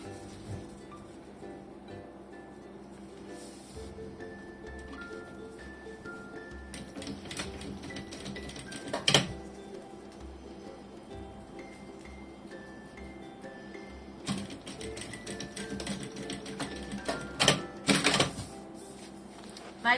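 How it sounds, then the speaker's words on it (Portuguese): Sewing machine running a seam along the edge of a small keyring mini backpack, a quiet, fast mechanical rattle in stretches with brief pauses and occasional louder knocks of handling. "vou fazer uma costura à beirinha"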